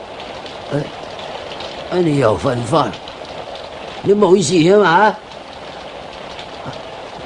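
Steady rain hisses throughout a Cantonese radio drama scene, while two short bursts of speech rise over it.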